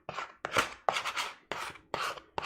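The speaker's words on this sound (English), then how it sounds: "So what I'm going to do is actually use a bench scraper to kind of clean off my cutting board here." Six quick, close scraping strokes of a bench scraper across a cutting board clear away mushroom bits during beef Wellington prep, each a short gritty rasp in a steady rhythm.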